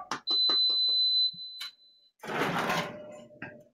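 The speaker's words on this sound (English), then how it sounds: "The induction cooktop is beeping at me." An induction cooktop in a home kitchen emits a sustained high electronic beep followed by a shorter tone, alternating with someone talking and some kitchen clatter.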